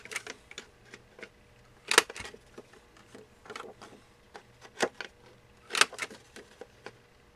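A corner rounder punch clips the corners of a laser-cut greeting card, giving sharp, separate mechanical clicks and snaps scattered at irregular intervals, with louder punches near two and six seconds, close up and with no talking.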